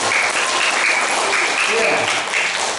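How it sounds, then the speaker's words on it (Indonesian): Audience applause for a mother at a storytelling event, a steady dense wash of clapping with voices and cheers mixed in throughout. "Tepuk tangan yang paling dahsyat untuk seorang ibu."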